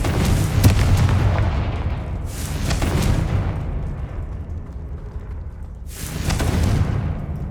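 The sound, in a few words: Confringo blasting spell explosion in the Hogwarts Legacy video game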